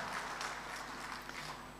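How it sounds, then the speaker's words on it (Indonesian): Audience applause at an Indonesian government organizational meeting, a faint steady wash of many hands clapping heard from a distance for a short stretch. "Jadi boleh tepuk tangan untuk teman-teman semuanya, kesiapan ini."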